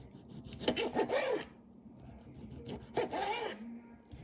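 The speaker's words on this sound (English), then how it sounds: "And I slice them about 1/2 inch thick" A serrated steak knife saws through pastrami, cream cheese and pickle wraps, giving two short bursts of close scratchy strokes separated by a quiet pause.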